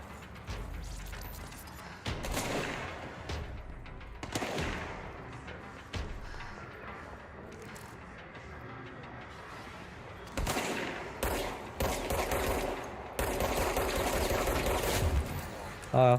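Rapid bursts of gunfire from the video game Control come in dense, repeated volleys, loud and sustained over most of the stretch, with brief lulls between bursts.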